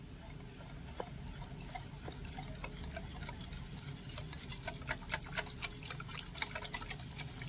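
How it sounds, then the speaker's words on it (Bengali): Rice flour batter mixed with water for jackfruit patishapta, a soft wet stirring with repeated light taps and clicks of the spoon against the bowl, growing busier toward the end. "খুব সুন্দরভাবে আমি আরো 1/2 কাপ জল দিয়ে খুব ভালোভাবে মিশিয়ে নিয়েছি"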